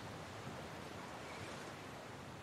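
Ocean waves in the video game Uncharted 4, a faint, steady wash of surf and wind-like noise running evenly throughout, with no voices.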